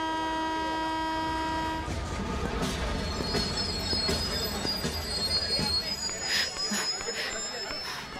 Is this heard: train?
yes